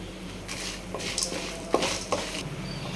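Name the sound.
toor dal and dried red chillies frying and being stirred in a pan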